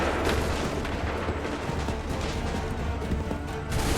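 A musket volley fired by soldiers at the 1775 Lexington and Concord battle in an Assassin's Creed game, heard as a dense, continuous roar of gunfire and booms with no clear gaps between shots.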